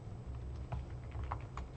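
Soft, quick typing of a command on a computer keyboard, a short run of light irregular key taps at close range and fairly quiet.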